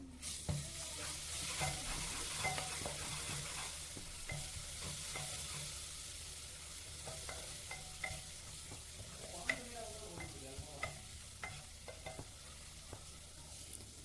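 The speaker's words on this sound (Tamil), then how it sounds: "அதோட 2 ஸ்பூன் இஞ்சி பூண்டு விழுது சேர்த்து நல்லா வதக்கி விடணுங்க" Ginger garlic paste sautés in a pan for prawn biryani, a soft, continuous sizzle broken by scattered scraping and stirring clicks, fairly quiet and close.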